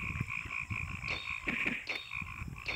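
Frogs in a swamp in the video game Ahriman's Prophecy, croaking repeatedly in short pulses over a steady high tone and faint game ambience, with no voices.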